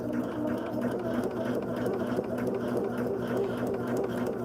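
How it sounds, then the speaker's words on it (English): A sewing machine stitching fabric for a quilt block, a steady, close, continuous mechanical whir and rapid needle chatter running unbroken at even volume throughout. "Turn it over and stitch on this line."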